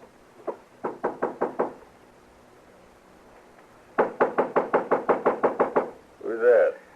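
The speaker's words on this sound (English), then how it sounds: "knock on the door" Knocking on a hotel room door in a Western drama, two bursts of rapid knuckle raps, a short run followed by a longer one of about ten knocks, with a voice answering briefly at the end.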